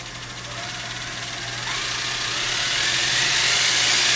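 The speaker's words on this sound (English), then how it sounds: "Just look at it, guys, how slow you can have the Fusion Pro motor to crawl." An RC rock crawler with a Fusion Pro brushless motor crawls slowly, giving a steady electric motor whine and drivetrain hum that grows slightly louder over several seconds, close to the listener.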